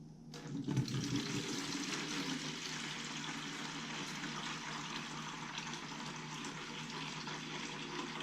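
Bleach pours into a bucket in a steady splashing stream lasting several seconds, starting with a brief louder gush, with no talking.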